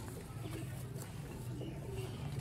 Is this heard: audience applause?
no